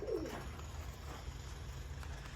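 Birmingham roller pigeons coo once close by at the start, then a faint, steady outdoor hiss and a low rumble carry on with no clear wingbeats.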